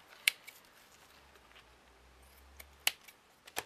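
Scissors cutting material during canvas work, a few sharp, quiet snips spaced apart against a near-silent background, with a faint low hum in between.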